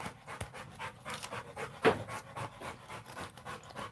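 Strawberry, a dog, pants in quick, rhythmic breaths close by, with a brief louder huff partway through and no voices.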